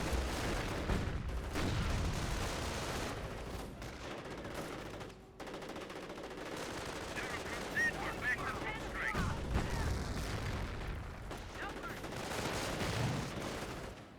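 Rifle shots and machine-gun fire crackle through a real-time strategy battle in the video game Company of Heroes, with sustained overlapping bursts, distant booms and a busy battlefield din under intermittent speech.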